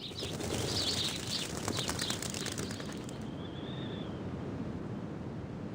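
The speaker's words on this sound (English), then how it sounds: "Sound of birds chirping fills the air." Birds chirp and flutter across an open field, bright twittering calls and wing flaps up close at first, then easing into a softer, steady outdoor hum with a lone call near the end.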